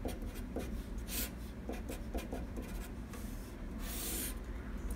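A marker or chalk scratches across a board as math working is written out, giving close, uneven strokes and short squeaks in a quiet room.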